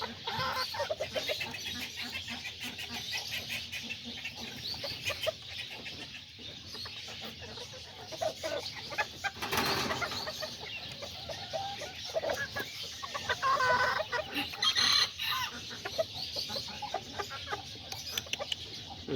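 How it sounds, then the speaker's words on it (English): Aztecas and serama roosters and hens cluck and murmur steadily in an outdoor yard, with a few sharper calls rising above the busy background chatter of the flock. "that's the little roosters, and then those are the other roosters over there"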